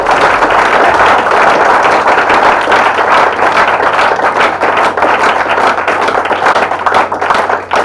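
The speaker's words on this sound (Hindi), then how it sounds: "कविता समाप्त हो गई, तालियां बजा दीजिए" At a Hindi comedy poetry gathering, the audience breaks into loud, sustained applause after a poem ends. The dense clapping from a large crowd stays steady and close for the whole stretch, with no voices over it.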